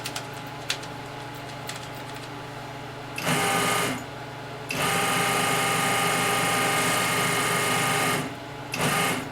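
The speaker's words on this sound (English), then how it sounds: "so the motor control works" An NCR 250 machine motor whirs on in loud, steady bursts, starting and stopping several times with a mechanical whine and hum, near and without talk.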